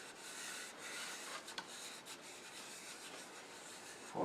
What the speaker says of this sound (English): now I'm going to use some abrasive paste to give the inside a nice silky feel